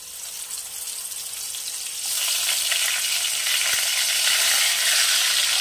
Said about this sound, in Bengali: আমি আস্তে আস্তে একটা একটা করে মাছ দিয়ে ভেজে নেব।